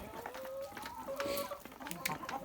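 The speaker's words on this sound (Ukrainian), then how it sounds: "Ось ця сивенька курочка занеслася." Young laying hens of the Livensk chintz, Amrox and White Leghorn breeds cluck in a farm coop. Soft, overlapping clucks and short calls come at a moderate distance, faint and intermittent.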